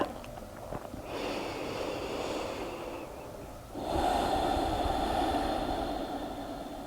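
Slow, steady breathing during a yoga-style neck stretch, with a long audible exhale that swells midway and holds, close and soft with no talking.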